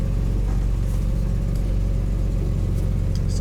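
A Lamborghini Countach heard from inside while driving, its engine a steady, loud low rumble with no clear revving, filling the cabin throughout.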